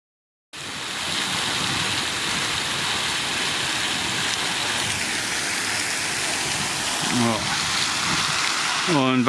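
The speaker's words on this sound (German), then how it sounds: "Oh, da ist ein schöner Springbrunnen." A fountain sprays and splashes in a steady, loud rush of water heard from a boat moving close past it on the way into a harbour, with a brief tonal sound near the end.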